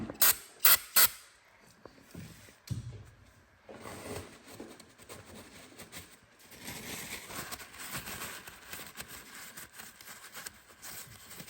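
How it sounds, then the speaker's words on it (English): A bolt thread chaser cuts threads on a Porsche 911 engine with soft, close ratcheting clicks and a scraping, grinding mechanism sound, a few sharp clicks at the start, with no speech. "Bolt thread chaser. Cuts into the threads, essentially."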